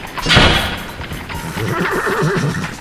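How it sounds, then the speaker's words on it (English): A horse and cart move at a quick pace along a road, with a loud thud early on, clattering movement and a whinnying neigh running through the second half. "horse and cart cantered at an expeditious pace along East Road towards Old Street"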